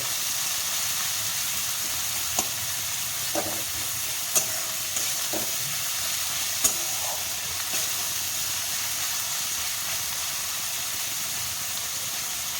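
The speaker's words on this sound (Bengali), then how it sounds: "পেঁয়াজগুলো ভালো করে লাল করে ভেজে নেব" Onions frying in a pan until browned for an eel curry, giving a steady close hiss of sizzling oil broken by a few sharp clicks of stirring.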